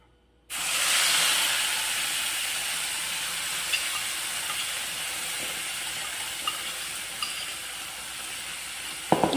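Hot oil, reused from frying chicken, potatoes and eggs, sizzles loudly and steadily as spices are sautéed for a potato and egg balado, a close, continuous hiss with a few small pops and no talking.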